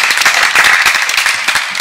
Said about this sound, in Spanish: Un fuerte aplauso para Julio.